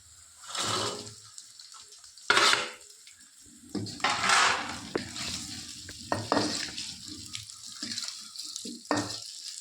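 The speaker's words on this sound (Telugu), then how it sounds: "చికెన్ ముక్క బాగా ఫ్రై అయింది" Chicken pieces frying in a pan for village-style chicken pickle, bursts of hissing sizzle rising and fading as the pieces are stirred, with scraping and clinks in between, close and fairly loud.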